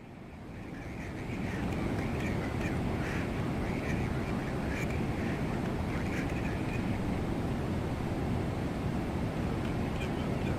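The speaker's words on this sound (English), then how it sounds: "I can listen to these engine sounds all day." A Boeing 777-200ER in British Airways livery, simulated in Microsoft Flight Simulator 2024 with an add-on soundpack, gives a steady loud engine roar that swells in the first seconds and then holds as a constant broad rumble with a faint whine on top.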